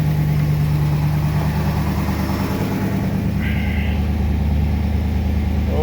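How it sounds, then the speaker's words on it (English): A Studebaker Avanti engine idling with a steady low rumble and constant vibration, close and loud throughout, with a brief higher whine partway through and no one talking. "Kick the idle up a little bit just to make sure it will keep running."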